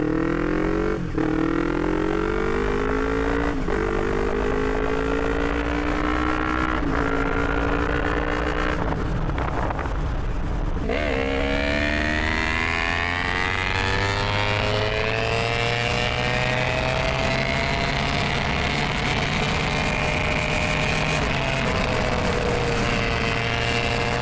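A motorcycle rides along a muddy road left wet by overnight rain, its engine note rising and falling steadily as it revs, with wind buffeting the microphone throughout and no talking.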